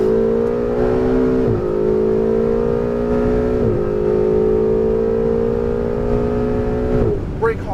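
A Ferrari 488 GTB accelerating hard on a Las Vegas track, its engine note climbing steadily in pitch, dipping at two upshifts, then falling off as the driver lifts. Loud and close, recorded from inside the car.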